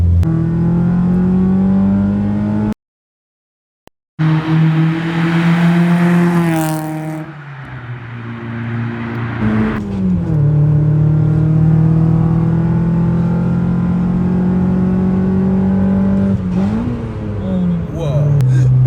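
A Honda Civic EG4 with a 1.5-litre engine without VTEC revs up strongly with rising harmonics, drops off, then revs again and holds a steady drone, with a brief cut of silence early on.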